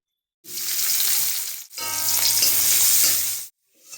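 Loud, steady sizzle of food frying in mustard oil, two long bursts separated by a brief dip, with a low hum beneath, then fading to quiet before a faint return.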